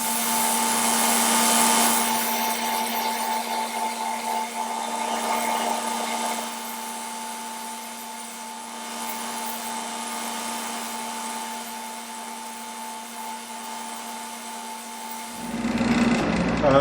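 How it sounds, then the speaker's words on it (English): Lathe turning a wooden drill handle while sandpaper is held against it, giving a steady whirring hum with a faint rasping hiss, close and continuous before stopping near the end. "we're going to go ahead and hit it with some sandpaper"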